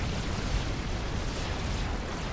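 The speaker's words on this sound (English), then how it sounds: "I quickly bomb them into oblivion" Bombs explode in the strategy game Supreme Commander 2, heard as a dense, continuous roar of rumbling blasts that stays loud for the whole stretch with no talk.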